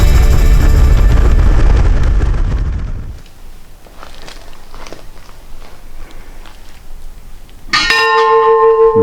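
A church bell rings out during a hike near Pelister National Park in North Macedonia. A loud, rumbling passage fades into quiet outdoor ambience with scattered small sounds, then a bright, ringing bell strike arrives near the end.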